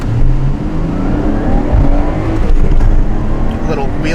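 A Nissan 180SX launching hard with wheel spin, its engine revving up loud and close through a rising, strained drone with some tire noise, while voices talk over it.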